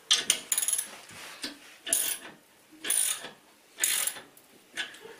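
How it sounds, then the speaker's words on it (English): A wrench ratchets to tighten a bolt on a TV wall mount, about six separate close clicking strokes spaced roughly a second apart with quiet pauses between them. "So it would be a good idea to finish the tightening off with a wrench."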